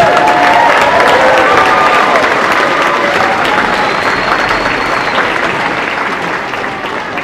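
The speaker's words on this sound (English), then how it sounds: "can we have another round of applause for our band?" A school audience gives the band loud, sustained applause at a winter concert, a dense wash of clapping with some cheering that tapers off slightly toward the end.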